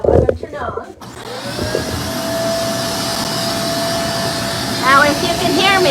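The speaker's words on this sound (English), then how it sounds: "I did use a little vacuum like this" A small handheld vacuum cleaner switches on with a click and settles into a loud, steady whine and rush of air, close by, with a brief shift in pitch near the end.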